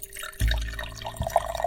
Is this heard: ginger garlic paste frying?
no